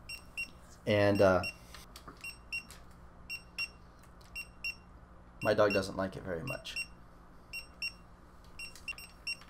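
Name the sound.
Bluetooth tracker beacons beeping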